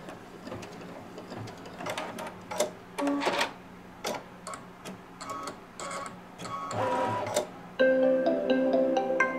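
An embroidery machine stitching an appliqué quilt block rattles and shakes hard, with dense mechanical clatter and tapping that rises and falls in bursts, then settles into a steadier, louder whir near the end.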